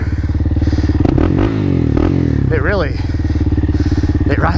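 Kawasaki Z400 motorcycle being ridden, its engine droning loud and close throughout with rising and falling revs and gear changes, plus rattling and wind noise.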